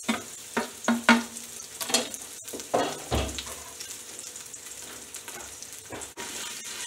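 Garlic and ginger hit a well-heated pot for curry goat, giving bursts of close sizzling and stirring scrapes that flare and settle over several seconds.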